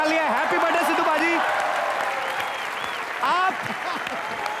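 Loud, dense studio audience applause on a Hindi comedy talk show, cheering a birthday, with a host's voice speaking over the clapping throughout.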